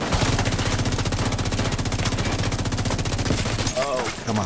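Rapid automatic fire from an assault rifle in the shooter game The Division 2, a loud, steady stream of close shots lasting several seconds before breaking off near the end.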